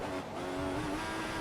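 A Formula 1 car overtaking in the racing game F1 2014, a steady high engine whine with a second engine tone layered under it, sustained and fairly loud for the whole moment with no talk.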